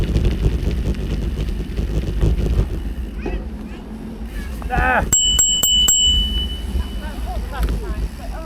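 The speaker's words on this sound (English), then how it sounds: "I thought we were having a bell competition" A bicycle bell rung several times in quick succession on the Monsal Trail, a converted railway cycling path, bright close dings over wind noise and riders talking.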